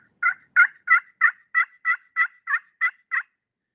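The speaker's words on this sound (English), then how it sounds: "these slate calls can produce a very high note" Zinc slate turkey call played with a striker, giving a run of ten evenly spaced, high-pitched yelps, each clear and close, over a quiet background.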